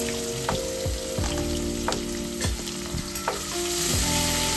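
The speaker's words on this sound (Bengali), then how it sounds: "চিড়ে রাখা লঙ্কা এবং পেঁয়াজ কুচিটা তেলের ওপরে দিয়ে দিলাম।" Slit chillies and chopped onion hitting hot oil with ground whole spices, producing a loud continuous sizzle broken by regular spatula knocks and scrapes against the pan, close up.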